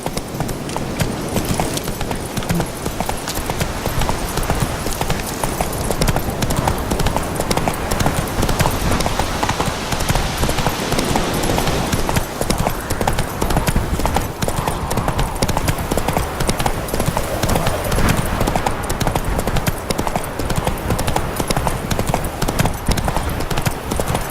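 Roach, a horse in The Witcher 3 on PS4, clip-clops at a steady trot, with dense rhythmic hoofbeats throughout at close range and no talk.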